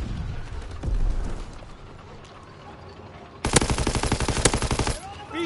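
Machine gun fire in Call of Duty WWII: a dense, loud burst of rapid automatic shots lasting about a second and a half, preceded by quieter scattered battle noise and a few distant thumps.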